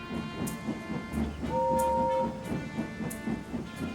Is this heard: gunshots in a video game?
no